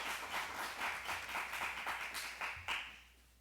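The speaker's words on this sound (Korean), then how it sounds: "우리 함께 박수하겠습니다" Church congregation clapping together during a New Year Sunday service, rhythmic collective claps at a moderate distance that pulse steadily, then trail off with a last few louder claps and fade.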